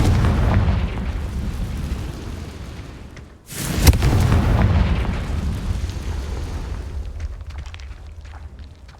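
A Confringo spell detonates in the Hogwarts Legacy video game, a loud booming blast that hits sharply, then rumbles and fades over several seconds amid ongoing low game ambience and rumbling.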